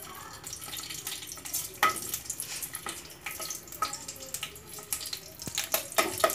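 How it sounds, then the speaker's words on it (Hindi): Stuffed capsicum sizzles and crackles in hot oil in a pan, a steady frying hiss broken by sharp pops and spatters, close and fairly loud, with no voices. "अब देखिए मेरा ऑयल गरम हो गया है, अब हम इसमें शिमला मिर्च रखेंगे"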